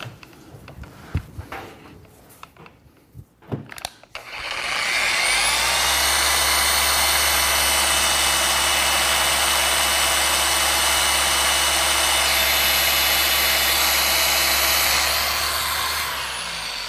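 A rotary screw air compressor in a car detailing workshop kicks on after a few light clicks and knocks, then runs loud and steady with a constant drone and a high whine.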